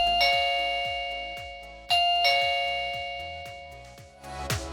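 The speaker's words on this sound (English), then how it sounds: "You will hear an audible tone once the Chime has been successfully connected." A wireless doorbell chime rings out a bright, clear melodic tone after pairing with a smart Wi-Fi doorbell, with two ding-dong strikes ringing and decaying over several seconds, close and alone.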